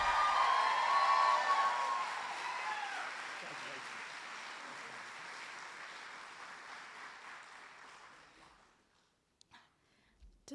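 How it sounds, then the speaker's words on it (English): An audience applauds at the 2024 Women's Hall of Fame ceremony. The clapping is loud and dense at first, then thins and fades away over several seconds into near quiet, with a few faint stray sounds at the end. "Let's give a round of applause for Maya"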